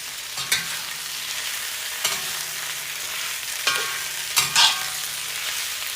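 Potatoes (one large, three medium, one tiny) cooking in a cast iron pan, giving a steady background sizzle broken by four sharp stirring scrapes about every one to two seconds, with no talking.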